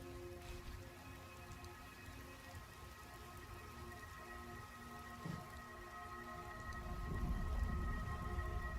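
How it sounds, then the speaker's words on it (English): Steady rain falls over Stormwind in Turtle WoW, a World of Warcraft setting, with a low thunder rumble swelling near the end. The broad hiss stays even throughout and no one speaks. "we fixed the rain in Stormwind"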